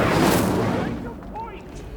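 A burst of the Incendio fire spell being cast in Hogwarts Legacy, a loud rushing whoosh of flame that flares and then fades over about two seconds with faint game effects trailing.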